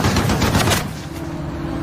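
Gunfire rings out from inside a forest in a war movie battle, a rapid burst of several shots up close followed by a lingering rumble of echo.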